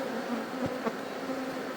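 Honeybees from a strong colony buzz during a hive inspection, a steady close droning hum with a few louder passes of individual bees flying near.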